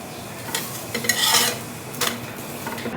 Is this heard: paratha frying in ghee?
yes